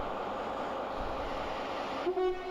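A steady, heavy rumble of a locomotive being uncoupled and moved to the other end of a passenger train, with a short tonal horn-like whine rising near the end.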